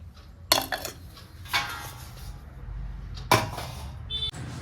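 Dirty dishes and pots are gathered up after a rice dinner, with a few sharp clatters and clinks of metal and crockery, separated by quieter handling and no speech.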